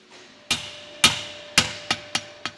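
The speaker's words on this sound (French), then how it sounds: "Il faut savoir utiliser le rebond du marteau pour conserver un maximum de force et éviter de fatiguer son bras inutilement." A blacksmith's hammer strikes metal in an art ironwork forge, six sharp ringing blows, the later ones quicker and lighter as the hammer rebounds, loud and close with short decaying rings.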